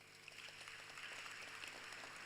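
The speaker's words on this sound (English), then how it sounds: "Please give him a round of applause too." Faint, steady applause from an audience at a health sector achievements event, a dense even patter of clapping lasting a couple of seconds with no voices over it.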